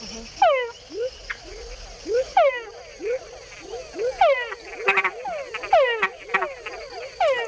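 Male frogs in Panama call repeatedly nearby, each a descending whine-like croak, sometimes followed by short chuck notes, overlapping in a busy rhythmic chorus.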